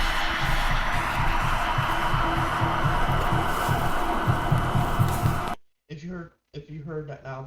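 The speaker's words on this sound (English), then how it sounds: "that was the air conditioner getting turned on" A loud steady hum with rhythmic low thumping fills the space, then cuts off abruptly and a voice begins speaking.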